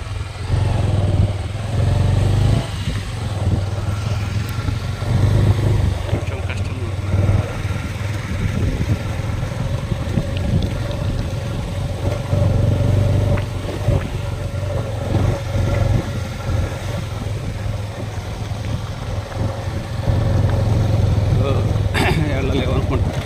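Motorcycles climbing a slippery mud slope near the Vamsadhara reservoir and Gotta barrage in Srikakulam district give off a steady, fairly loud engine drone that swells at times. People talk over it throughout.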